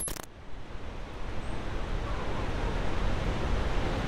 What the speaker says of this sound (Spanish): esta cascada que está atrás de mí